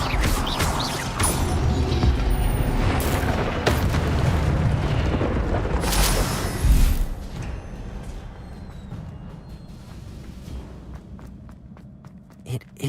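Incendio fire spell blasts in the video game Hogwarts Legacy, a loud roaring, crackling burst that rumbles on for several seconds before fading into quieter clicks and footsteps.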